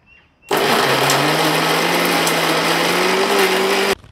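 A mixer grinder jar whirs loudly with old bed cotton inside, starting abruptly, holding a steady high motor drone with a slowly rising pitch for about three and a half seconds, then stopping sharply.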